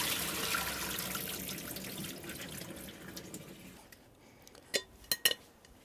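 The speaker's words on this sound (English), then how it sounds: "you drain them." Soaked sliced potatoes drained of water in a kitchen: a running, rushing pour fades over several seconds, followed by a few sharp clinks of a pot or utensil near the end.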